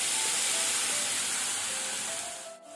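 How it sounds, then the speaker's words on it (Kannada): A big ground tomato frying in oil on a medium flame for an egg palak gravy hisses and sizzles steadily and close, a continuous bright spitting sizzle that eases off slightly at the end. "ಇದನ್ನು ಸಹ ನಾವೀಗ ಒಳ್ಳೆ ರೀತಿ ಮೀಡಿಯಂ ಫ್ಲೇಮಲ್ಲಿ ಫ್ರೈ ಮಾಡ್ಕೊಳ್ಳುವ"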